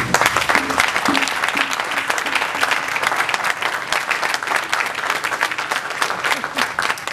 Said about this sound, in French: tous les tests que vous avez écoutés sont issus des participants que je vous demande encore d'applaudir